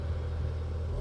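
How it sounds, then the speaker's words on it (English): A scaffolding truck rolls past outside a resort building under window renovation, a steady low rumble of engine and tyres, fairly close and continuous with no talk. "They went by me with a scaffolding truck"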